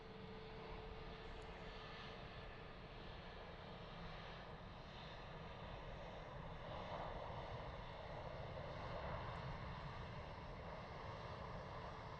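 EasyJet airliner at Gatwick Airport, a steady distant jet engine roar blended with wind noise, holding an even level throughout without talk.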